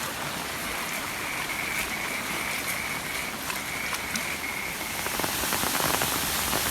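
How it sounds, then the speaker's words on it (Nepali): Rain falling steadily on a flooded road in Lekhnath near Pokhara, a continuous dense patter and rush of water, growing slightly louder toward the end, with no voices. "पानी परिरहेछ बाटोमा"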